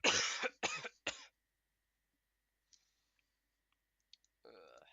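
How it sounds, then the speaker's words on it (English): A sick person coughs three times in quick, harsh bursts close to the microphone, then near silence broken by a few faint clicks and a low murmur at the end. "I'm gonna cough again."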